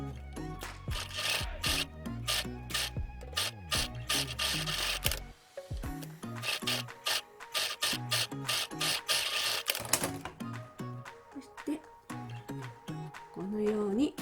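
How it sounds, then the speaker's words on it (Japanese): A sewing machine stitches the pocket of a cloth face mask in quick mechanical clicking runs that start and stop, close by, with some soft handling noise between stretches. "ポケット部分の中央のところも縫っていきます"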